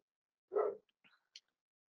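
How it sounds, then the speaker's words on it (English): A dog barks once outdoors, a short muffled woof at a moderate distance, followed by a few faint small noises and then quiet, with no talking. "My dog is barking outside."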